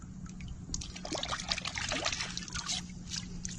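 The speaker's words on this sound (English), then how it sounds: "The good part is washing it in salt water." Water splashes and trickles steadily as a mud crab is rinsed in salt water outdoors, close and continuous with small sloshing bursts, over a low background hum.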